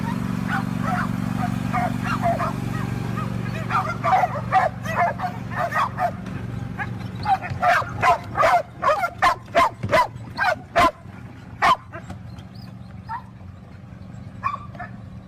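Stray dogs riding a trolley train built from drums bark and yip in a rapid, uneven series, some barks loud and close. Someone talks over the barking throughout.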